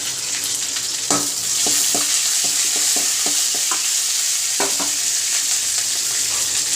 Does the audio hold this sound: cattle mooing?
no